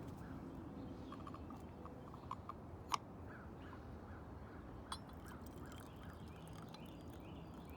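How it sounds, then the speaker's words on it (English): Faint, scattered bird calls drift over a steady outdoor background hiss at sunrise, with a few brief sharper chirps standing out now and then. "We can just sit and listen to the birds for 5 more seconds."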